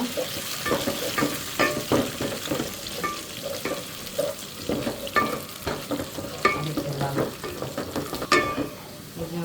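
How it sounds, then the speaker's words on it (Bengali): Garam masala, bay leaves and raisins fry with browned onions in a pan, a busy sizzle with frequent quick stirring scrapes and clinks of a spatula, close and steady, without any speech. "এখন আমি দিয়ে দেব গরম মশলা তেজপাতা আর কয়েকটা কিশমিস দিয়ে একটু পেঁয়াজের সাথে ভাইজে নেব"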